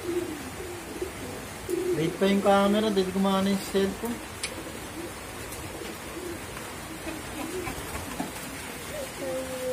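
Soft racing pigeon cooing, a few repeated low coos from a wet bird, mixed with rain-like patter and a person talking nearby.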